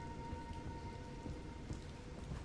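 Rain and a thunderstorm inside the video game Resident Evil Requiem: a dense, constant downpour patters on surfaces with a low rumble of thunder beneath, steady and enveloping, no one speaking.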